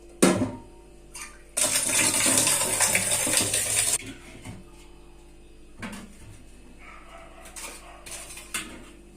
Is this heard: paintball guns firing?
no